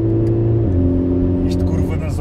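A 2016 Mercedes A45 AMG with a 2.0-litre four-cylinder engine revs while cornering, a loud steady in-cabin drone that drops in pitch early on, with talk over it.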